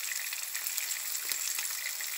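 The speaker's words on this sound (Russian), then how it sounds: "Такое аппетитное шкварчание было." Fish sizzles and crackles in hot oil, a bright, even spatter with small pops, close and steady for a couple of seconds.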